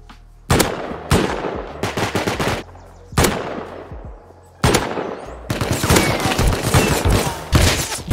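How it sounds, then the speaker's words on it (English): Loud, close bursts of automatic gunfire from the survival video game Rust, several separate volleys with short pauses between them and no talking over the shots. "Bro, I shot him 3-4 times."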